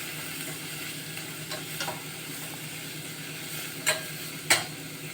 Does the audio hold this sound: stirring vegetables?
yes